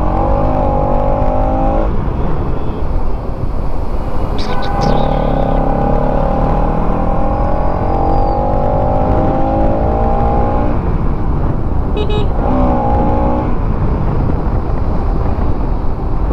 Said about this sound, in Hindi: भाई मेरे को इसका एग्जॉस्ट नोट क्या ही मस्त लग रहा है यार